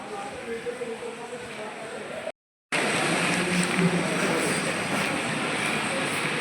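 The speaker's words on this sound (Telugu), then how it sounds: "ఈ ట్రైన్ వెళ్ళిపోతుంది" A train pulls away from a railway station platform while light rain falls, a broad steady rumble and hiss running throughout, close and loud, broken by a short silent gap, with voices faintly under the noise.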